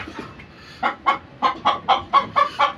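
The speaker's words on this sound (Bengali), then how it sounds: "মোরগটা দেখেন, খুব সুন্দর একটা মোরগ" A rooster gives a quick series of about eight short, rhythmic clucks, close by and fairly loud.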